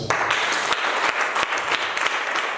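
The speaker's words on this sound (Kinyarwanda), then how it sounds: "Mu gukomera amashyi" A church congregation claps together in steady applause, a dense, fairly close patter of many hands with a few louder individual claps standing out, no speech over it.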